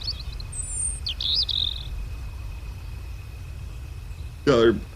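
Wild turkeys call in the Turkey Hunting Unlimited hunting game, with a few short chirps early on and a loud, close gobble-like burst near the end over a low, steady ambient hum.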